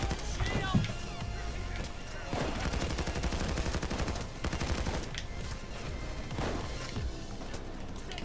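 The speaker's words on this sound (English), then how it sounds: "I can't kill these cops anymore. Except for this one because it's shooting at me." Gunfire from police in the Payday 2 video game, dense bursts of shots crackling through most of the stretch, with a player talking over it.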